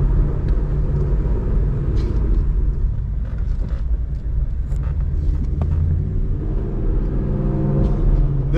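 A Ford Mustang 5.0 with Kooks headers, a Corsa Xtreme exhaust and a Lund Racing flex-fuel tune rumbles steadily at a deep, even pitch, close and continuous with no talking.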